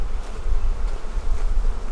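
Honey bees swarm around a hive in a bee barn, their dense buzzing hum close and steady with slight swells in loudness, with no voices.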